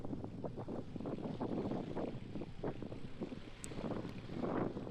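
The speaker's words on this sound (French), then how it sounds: "J'ai pas mal de vent de face, et d'autant plus avec la guitare qui dépasse dans le dos." Wind buffets a microphone on a bicycle ride through the streets of Bourges into a headwind, with a guitar sticking up from the rider's back; a steady low rumble with gusty surges throughout, no talk.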